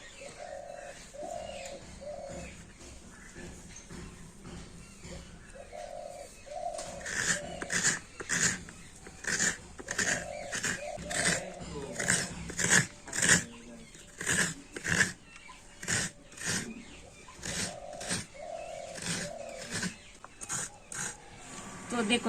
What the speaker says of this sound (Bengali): এই নারকেলটা এখন আমি কুড়ে নেবো